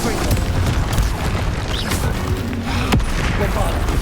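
A loud blasting spell explosion in a Harry Potter video game, a sustained booming rumble with crackling bursts and a sharp impact near the end, with a voice speaking over it.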